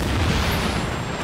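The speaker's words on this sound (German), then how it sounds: "Granate." A grenade blast in the shooter game The Division gives a brief, dull, low boom with a muffled rumbling tail.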